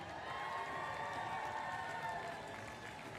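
Roadside crowd at the Falmouth Road Race clapping and cheering steadily at a distance, a continuous wash of applause with no single standout voice.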